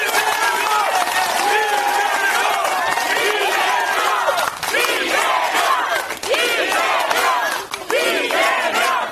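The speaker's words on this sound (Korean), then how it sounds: "박수 한번 부탁드리겠습니다" A large crowd at an outdoor political party rally for the Democratic Party in Gunsan roars with cheering and shouting, mixed with applause, loud and continuous for about nine seconds, with voices chanting and yelling throughout.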